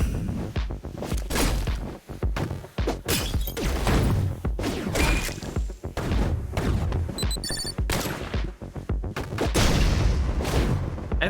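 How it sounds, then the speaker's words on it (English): Explosions from remote bombs in the action game Katana Zero, a dense run of loud crashing booms and impacts that keeps going throughout with no voice over it. "it's another of those remote bombs"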